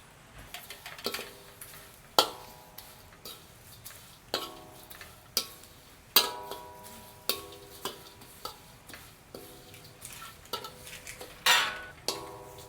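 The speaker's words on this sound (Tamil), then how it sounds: "பாருங்க நல்ல வடிவாக நாங்கள் கலந்துட்டோம்" A spoon mixes shrimp sambal in a pan with onion, garlic and fried dried fish. Close, sharp metallic clinks and scrapes come in a steady rhythm of about one per second over a quiet background.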